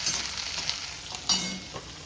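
Peanuts and onion fry in a pan, a close, fairly loud sizzle with a brief scrape or two as they are stirred and mixed.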